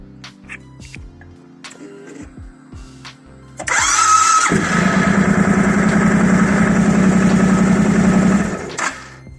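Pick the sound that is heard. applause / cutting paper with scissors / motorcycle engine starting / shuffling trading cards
motorcycle engine starting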